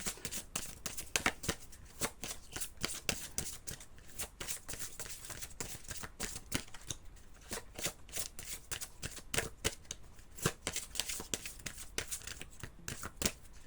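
A deck of oracle cards, the Oracle des Cœurs Vaillants, is shuffled close up in a steady, continuous run of papery riffles and flicks, lasting the whole stretch with no voices.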